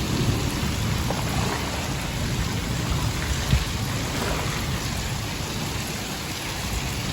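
Heavy rain pours steadily in a dense wash, with a low rumble of thunder beneath it and no voices.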